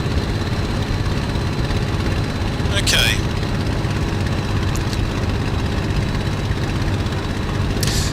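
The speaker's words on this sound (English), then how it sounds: "Engine seems to be running" A BF 109G-6 engine runs steadily in a flight simulator flying over Duxford, a constant low droning rumble throughout, with a brief spoken word over it.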